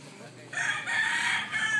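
A white rooster crows close by in one strong, drawn-out call, rising and held for over a second.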